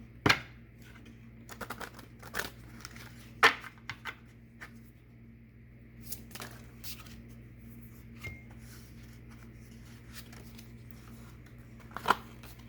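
A deck of yoga cards is shuffled and handled at close range: soft papery riffles and a few sharper snaps scattered over a quiet steady hum, with no talk.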